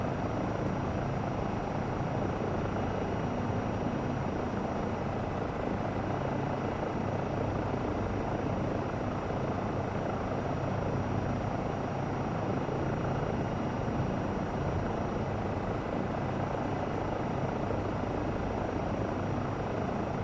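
A Eurocopter EC135 helicopter hovering in Microsoft Flight Simulator 2024, its rotor and turbine making a steady, unbroken drone that stays constant and loud, with no voices.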